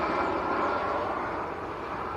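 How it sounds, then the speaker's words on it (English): An EasyJet Airbus A320 arriving from Jersey at Manchester Airport gives a steady, broad jet roar that holds constant and fairly loud without any break. "That's EasyJet from Jersey."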